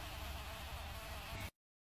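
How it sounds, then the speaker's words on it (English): Bumblebees buzz in a dense, continuous hum at their nest, close and steady, before the sound cuts off abruptly. "This is our friend, the bumblebee."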